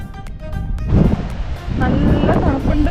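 Strong gusty wind blows across the microphone near Karangahake Gorge in New Zealand on a cold morning, rising into a loud, steady roar after a quieter opening with brief knocks and light background voices.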